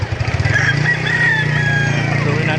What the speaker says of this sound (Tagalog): Nakikita nyo, napakaraming manok.